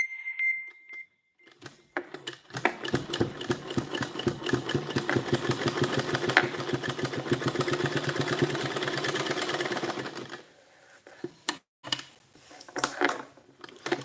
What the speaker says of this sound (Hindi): सिलाई कर रही हूँ भैया